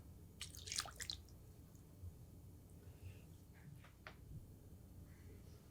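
Shaoxing wine is poured into a bowl of minced pork for Chinese lion head meatballs, a faint trickle with a few soft drips and splashes in a quiet kitchen.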